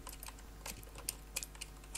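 Computer keyboard keys clicked in quick, irregular bursts while playing Minecraft, some presses landing several at once; sharp close taps over a steady low hum, no talking.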